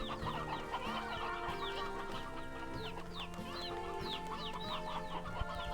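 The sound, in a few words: chickens clucking in the video game Slime Rancher 2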